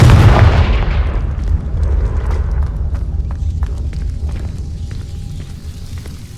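A Confringo blasting spell in Hogwarts Legacy goes off at the entrance to a hidden herbology corridor: a loud, close, booming blast that rumbles and slowly dies away, with scattered debris clatters in the fading tail.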